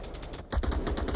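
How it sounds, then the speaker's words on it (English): Rapid bursts of gunfire from the VR shooter Onward, a rattling automatic stream that steps up loudly after a brief lull, continuous and close. "All the gunfire coming out from Murfinator right now."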